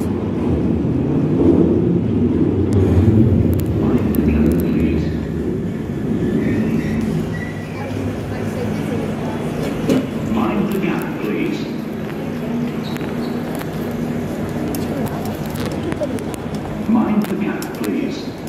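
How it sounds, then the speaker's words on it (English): A London Underground train creeps slowly into the northbound platform at Piccadilly Circus, a steady low rumble and rolling wheel noise that fills the station, with faint squeals and announcements mixed in and people talking nearby. "It comes on slow northbound one, very slowly."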